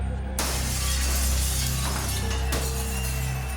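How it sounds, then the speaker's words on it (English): Glass shattering and crashing in a sustained, dense burst during a street riot, loud and continuous with no voices. "The crash of glass was continual."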